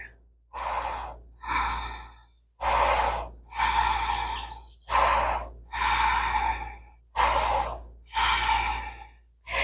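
Deep, slow breathing held in an extended side angle yoga pose: about four full cycles of loud, close inhales and exhales in a steady rhythm, with no talk over them.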